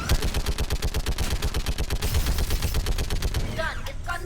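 Rapid automatic gunfire from a heavy weapon in Mass Effect 3, a fast evenly spaced stream of loud shots that fades near the end, where a voice briefly speaks.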